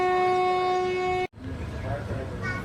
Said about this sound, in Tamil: ட்ரெயின் இப்போ கிளம்பிடும்.